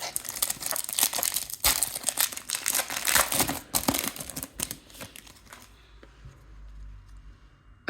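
A Topps trading card is slid into a plastic sleeve, giving off close, crinkly rustling and faint scratching for several seconds before the sound fades to quiet.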